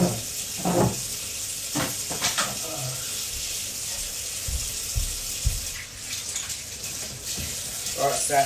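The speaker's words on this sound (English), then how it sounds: "Let me just wash my hands again." Water runs steadily from a tap while hands are washed beneath it, a continuous splashing hiss with a few louder bursts, and some faint talk in the background.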